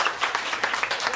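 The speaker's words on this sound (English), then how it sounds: "One more applause." An audience at a family-friendly show gives a short, brief burst of clapping, a quick rippling patter of hands.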